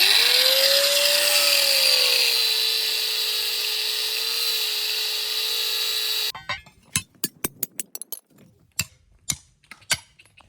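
A power tool cuts metal parts for a homemade battery-powered electric bicycle, first a long steady high whine, then a run of sharp irregular clanks and knocks as pieces are handled.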